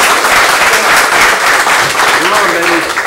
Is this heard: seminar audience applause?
yes